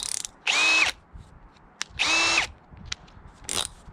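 A Parkside cordless drill driver whirs in two short bursts of about half a second each, with faint clicks and rattles in between.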